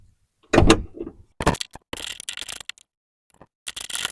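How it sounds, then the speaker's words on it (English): Ratcheting wrench loosening the rear door hinge bolts on a BMW E46, a few close, sharp bursts of clicking and metallic scraping separated by short silences, with no talking. "We're just going to use our ratcheting wrench, get those loose."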